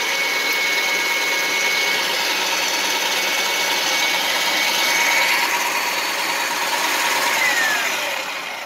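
A Titan 660ex paint sprayer runs with a fluid pump taken from a 440xc, giving a steady, close motor drone with a continuous broadband whine and hiss throughout, easing slightly at the end.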